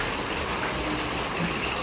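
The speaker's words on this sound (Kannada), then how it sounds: "ಸೊ ಮಳೆ ಬರ್ತಾ ಇದೆ ಇವಾಗ" Rain falls in Bengaluru city as a dense, even wash of noise that stays at the same level throughout and has no voices over it.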